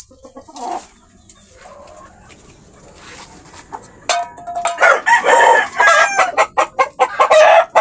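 Tethered chickens in a backyard cluck in short bursts, then a rooster crows loudly and repeatedly up close, with more clucking mixed in.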